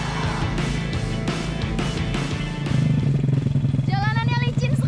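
A motorcycle engine drones and revs unevenly on a very slippery road, growing louder midway, while a person talks over the ride near the end.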